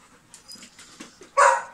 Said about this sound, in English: So you can hear him barking.